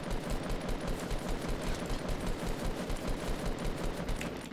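Sustained gunfire in the Fortnite Battle Royale shooter game, rapid shots rattling in a fast, even rhythm throughout, fairly loud and dense with no talk.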